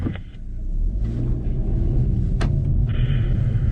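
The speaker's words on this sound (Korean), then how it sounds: "네, 그러면 첫 번째 차량 40으로 출발하겠습니다" A 2020 Hyundai Veloster N with an 8-speed DCT pulls away from rest on a cone course, its engine a steady low rumble swelling slightly as it gets moving, close and continuous throughout.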